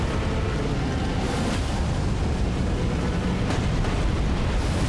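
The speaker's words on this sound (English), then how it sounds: "Now we have the exploding skull line floating around" Exploding skull attack in Elden Ring, a dense, continuous roar of blasts and rumbling bursts that stays loud and sustained throughout.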